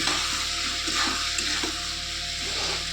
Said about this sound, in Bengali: আর যে টমেটো কুচিটা করেছিলাম সেটাও এই সময় আমি দিয়ে দেবো, দিয়ে ভালো করে কষতে থাকবো